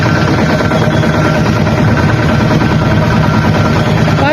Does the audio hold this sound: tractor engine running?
yes